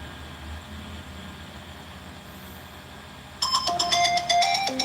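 A phone suddenly starts ringing, a bright electronic ringtone that cuts in clearly after a stretch of quiet background noise and pulses in quick repeated tones.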